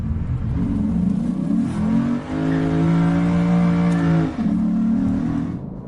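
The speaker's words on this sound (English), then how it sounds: "Naturally aspirated V8s are so good." A 2024 Lexus RC F with a naturally aspirated V8 revs hard and close, holding a strong steady engine note through two sustained blips with a brief dip between them.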